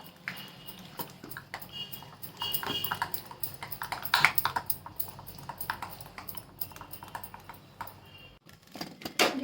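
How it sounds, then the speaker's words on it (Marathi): A spoon whisks pea dosa batter with soda in one direction, giving quick, light clicking and tapping strokes in an uneven rhythm, close and fairly soft, with no talking. "आणि एकाच दिशेने चांगलं फेटून घ्यायचं असं"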